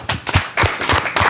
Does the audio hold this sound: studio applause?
yes